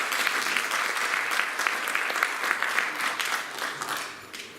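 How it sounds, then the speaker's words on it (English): Warm audience applause for the Armenian delegation at a digital transformation forum in Bucharest, a loud dense burst of many hands clapping that continues steadily, then fades toward the end. "let's have a warm applause to the Armenian delegation that are here in Bucharest"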